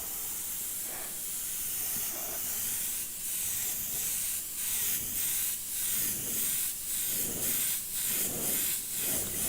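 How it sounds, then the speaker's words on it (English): Airbrush spraying paint, a continuous airy hiss that pulses in short bursts as the spray is triggered on and off, close and steady throughout. "you have to remember to bring the airbrush up over here and spray down"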